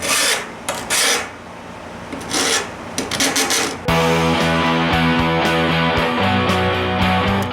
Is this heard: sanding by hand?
yes